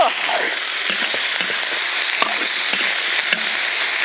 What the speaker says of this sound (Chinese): 锅里倒油，炸料头，葱姜蒜干辣椒，炒鸡肉